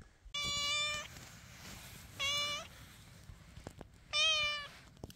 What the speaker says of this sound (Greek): Γατάκια.